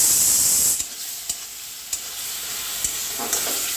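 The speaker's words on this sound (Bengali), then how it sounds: "পেস্টটা আমি এখানে দিয়ে দিলাম, দিয়ে আমি পেস্টটা একটু সুন্দর করে একটু কষছি" Spice paste mixed with salt fries in a pan for a papaya curry, giving a steady bright sizzle with light scraping stir strokes at irregular intervals, close and continuous, with no talking.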